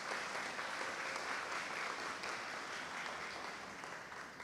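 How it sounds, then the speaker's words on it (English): Commencement audience applauding graduates and a poet, a steady, faint wash of many hands clapping that carries on evenly throughout. "Can I have another round of applause for Sister Nadira and the poem that we just heard, and the students and the graduates?"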